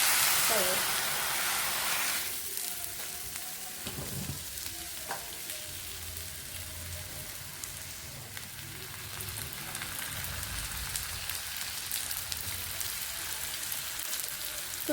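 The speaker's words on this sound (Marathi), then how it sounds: "धपाटं टाकून घ्यायचं तव्यावर" Thalipeeth (dhapate) dough sizzles on a tawa greased with oil using an onion, a steady hiss of frying that swells after a quieter start, with faint talk in the background.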